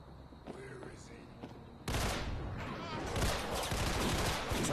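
Gunfire from the Piranha gun in the VR shooter Dead Second, bursting in loud and rapid after a quieter opening with soft game sounds, then rattling on in dense repeated shots, with a voice briefly talking.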